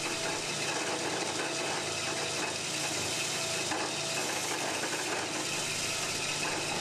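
A horizontal bandsaw runs steadily with coolant flowing onto the blade, giving a dense, continuous hiss and wash of noise that stays level from start to finish, close and fairly loud, with no voices.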